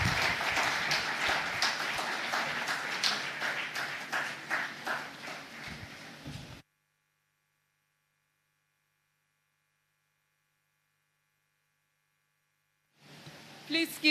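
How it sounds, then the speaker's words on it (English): A crowd claps in a dense, rattling burst of applause that gradually thins, then cuts to silence before a brief return of noise. "Please keep giving him a round of applause."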